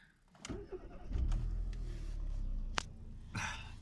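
A Mercedes-Benz A-Class A140 automatic with 49,000 miles is switched off and restarted: a brief starter crank followed by a low engine rumble that settles into a steady idle, close by, with no talking.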